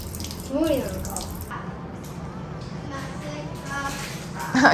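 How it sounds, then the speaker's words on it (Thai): Running water from a tap as someone washes their hands and face at a sink in a Japanese family home, a steady wash with splashes and a brief surge near the end, with some voice in the background. "กลับมาบ้านต้องล้างมือก่อน ก็ล้างหน้าล้างตาด้วยเลย"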